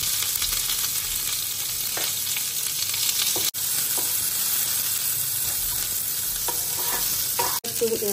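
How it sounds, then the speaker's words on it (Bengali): Dry red chillies and carom seeds crackling in hot oil while being stirred, a loud continuous sizzle with occasional scraping strokes, close up and without speech. "এখন তেলে শুকনো লঙ্কা আর জোয়ান ফোড়ন দেব।"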